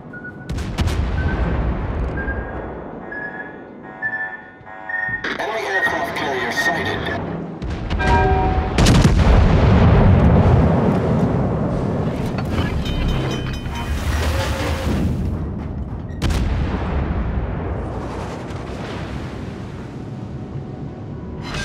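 Fuso battleship main guns firing in World of Warships, heavy booming salvos with rumbling low blasts rolling across a sustained roar of sea and wind, loud and close, with game voice callouts in the mix.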